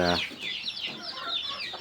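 Chicks cluck and chirp in a busy, overlapping chorus, close by, with soft squeaky calls rising and falling.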